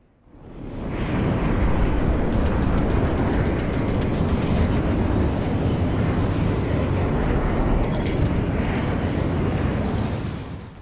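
A roaring aircraft engine in a combat video game surges in and holds at a loud, steady rumble for about ten seconds before easing off at the end, with no talk over it.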